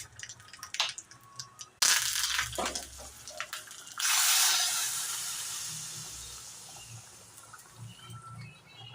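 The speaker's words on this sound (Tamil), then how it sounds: "தேங்காய் எண்ணெய் போட்டு கடுகு, வெந்தயம்," Mustard seeds and fenugreek are tempered in hot coconut oil. Quiet clinks and taps are followed by a sudden loud sizzle, then a second hissing surge that slowly fades.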